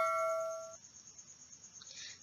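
A single bright notification bell ding rings clearly and decays within a second, followed by faint background noise.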